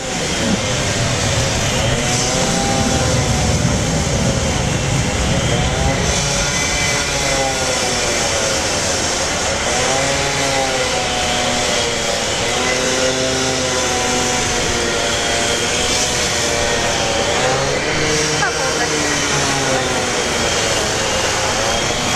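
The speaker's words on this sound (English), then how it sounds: "United 777 at 10 for day landing" A United Boeing 777 landing at Brisbane Airport, a steady loud roar of jet engines with sweeping pitch changes as it passes, continuous for over twenty seconds.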